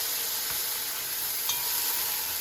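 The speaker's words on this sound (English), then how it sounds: "And I'm gonna saute for 2 to 3 minutes" A steady broad sizzle rises from a pan as food sautés over medium heat for a Jamaican stuffed pepper dish, with faint stirring clicks and no talk.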